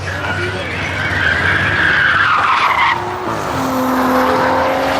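A Tesla Model S Plaid launching in a spectator drag race at a track: a loud, sustained tire squeal and whining electric drive rising and sweeping past nearby, with a commentator talking over it.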